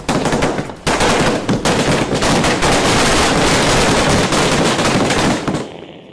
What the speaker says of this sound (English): there are smaller, more intimate fireworks displays. A long day of celebrations is coming to an end, and it's going out with a bang